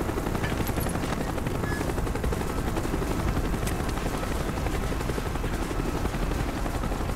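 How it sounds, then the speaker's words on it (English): Helicopters in the video game Call of Duty: Black Ops, a steady loud rotor drone filling the whole stretch, mixed with dense rumbling battle noise and no talk. "These helicopters would definitely see us."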